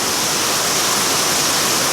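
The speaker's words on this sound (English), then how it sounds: "under heavy rain." Heavy rainstorm pouring down on an umbrella during a lockdown Merdeka Day in Donggongon, a dense, steady broadband roar of falling rain that stays loud and unbroken throughout, with no voices.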